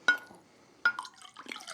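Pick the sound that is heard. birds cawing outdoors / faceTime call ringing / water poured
water poured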